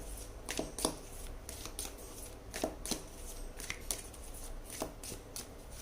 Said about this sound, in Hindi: चलिए यहाँ से हम फाइनल कार्ड्स निकाल लेते हैं आपके लिए